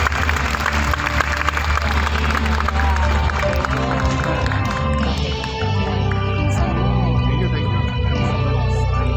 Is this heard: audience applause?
yes